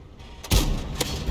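Tank cannon shots in the video game World of Tanks, from a Bat Châtillon Bourrasque match: a sharp, loud blast with a booming low tail, followed about half a second later by a second, lighter shot.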